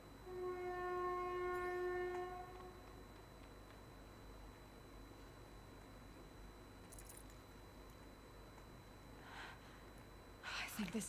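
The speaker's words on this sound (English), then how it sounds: "sorry for the train sound" A passing train sounds a long, loud horn blast with a steady tone that fades after about two seconds, followed by a low rumble of rolling rail cars, with soft speech over the top.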